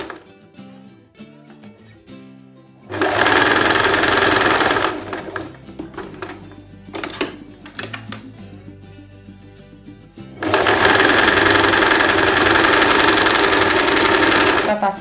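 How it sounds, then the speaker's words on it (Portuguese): A sewing machine stitching a fabric belt sash for a simple dress, running loud and steady in two long bursts with a quieter pause of handling noises between them. "Você vem costurando essa parte do seu cinto, do cintinho, da faixazinha que tem aí."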